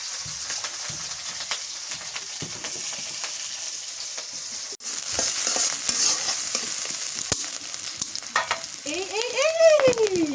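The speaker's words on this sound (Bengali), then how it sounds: "রেহান, নুন দিয়া রসুন আর মরিচটা ভালো করে ভেজে নিই" Garlic and chili frying with salt in a pan, a steady close sizzle with occasional stirring scrapes, a brief sharp knock midway, and a rising whistling tone toward the end.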